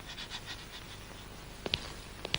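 A dog pants in quick, soft, rhythmic breaths, then a few sharp clicks or scrapes break through near the end. The sounds are fairly quiet, with no talking.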